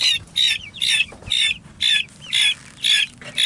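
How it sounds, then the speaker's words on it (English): A guinea fowl squawks loudly at close range in a steady series of about seven harsh, evenly spaced calls, with no other sounds around them. "Oh, there's the guinea."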